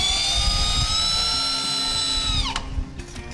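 A power driver sinks a 2.5 inch screw into the wooden frame of a chicken tractor. Its high motor whine holds steady, then winds down abruptly near the end, followed by faint handling noises.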